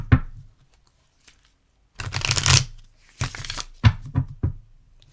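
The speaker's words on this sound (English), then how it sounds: "I'm going to give the cards a good shuffle." Tarot cards are shuffled in several close, crisp bursts of riffling and sliding, short rustling flurries separated by quiet pauses, with no talking over them.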